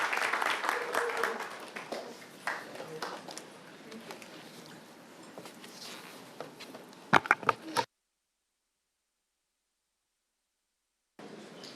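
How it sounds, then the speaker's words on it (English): Applause for a proclamation at a city council meeting, a scattered patter of clapping under some talk that fades after several seconds into silence. "Please join me in a round of applause"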